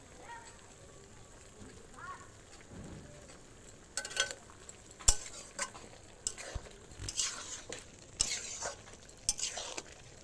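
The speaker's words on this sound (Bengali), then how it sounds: "সর্ষে আর রাঁধুনির গুঁড়োটা ছড়িয়ে দেবো দিয়ে আমি নাড়িয়ে নামিয়ে নেবো" Sukto in a pan with mustard and radhuni powder sprinkled in, a spoon scraping and clattering in bursts over a faint sizzle, with some talking.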